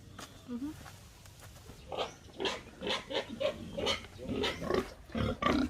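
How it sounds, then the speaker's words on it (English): Pigs grunt and snort repeatedly at close range, a busy series of short rough calls with a person speaking among them. "Walking to the pigs. You can even hear them."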